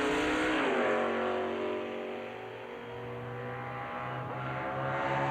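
Drag race launch of a 1968 Camaro with a 460 cubic inch engine against a Corvette with 480 cubic inches at an NHRA event, loud engine roar rising through gear changes as the cars pull away.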